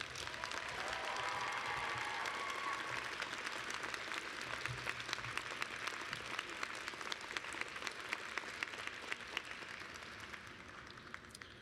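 Broad, steady applause from a commencement audience fills the whole stretch, a dense wash of many hands clapping at a distance, with scattered cheers and no speech over it.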